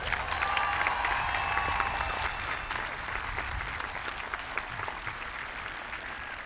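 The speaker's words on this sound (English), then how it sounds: "let's give them all another round of applause" A large audience at a high school graduation ceremony applauds veterans with steady, dense clapping and some crowd noise, loud and sustained throughout.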